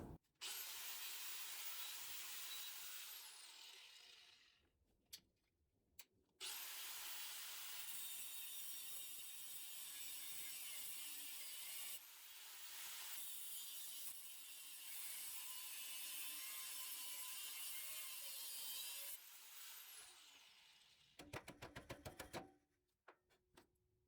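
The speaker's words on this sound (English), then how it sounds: "I'm going to go ahead and just cut it out with the old death wheel here." An abrasive cut-off wheel grinds through the stuck top bolts on a 1987 Dodge D-100 truck, a loud sustained screech in three long bursts separated by brief pauses, ending with a few sharp ratcheting clicks as the wheel spins down.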